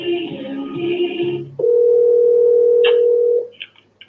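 A steady telephone line tone hums alone for about two seconds during a call transfer, preceded by a brief burst of lower tones and ending with a couple of short faint beeps.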